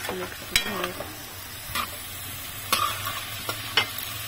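A stir-fry with oyster sauce is stirred in a hot pan, with steady sizzling under sharp scraping and clinking strokes of a utensil at irregular intervals, close by.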